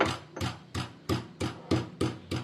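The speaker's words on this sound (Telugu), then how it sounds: "వేసుకొని బాగా దంచుకొని పేస్ట్ లాగా చేసుకోవాలి" Green chillies are pounded into a paste, eight evenly spaced dull thuds in a steady rhythm, loud and close with no voices.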